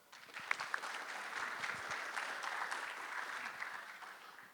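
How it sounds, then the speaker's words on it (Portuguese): Audience applause at an agricultural users' meeting welcoming a speaker on soil conservation and mechanization; steady, dense clapping from a sizable crowd throughout, with a few sharper individual claps near the start. "Uma salva de palmas"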